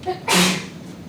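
A single sharp sneeze from someone in a lecture audience, loud and abrupt after a quick intake of breath, fading into quiet room tone.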